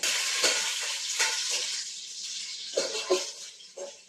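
Green chilies fry and sizzle in a pan while biryani is being cooked, a steady hiss broken by several stirring scrapes and knocks, close and moderately loud with no talk.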